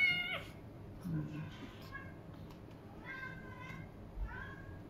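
A cat meows repeatedly while being bathed in hot weather, giving loud, plaintive, drawn-out cries that rise and fall. Someone talks beneath the cries, and water and handling sounds can be heard in the background.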